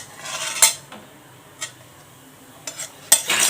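Roasted dry fruits are scraped and tipped from a pan onto a plate, making a few sharp metallic clinks and scrapes spaced irregularly with soft rustling between, close by.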